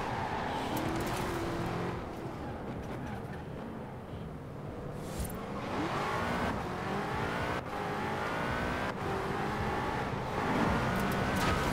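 A car engine in the racing game Forza Horizon 4 revs hard and keeps roaring as the car accelerates and shifts gears. The sound is loud and continuous, with whooshes and brief skids.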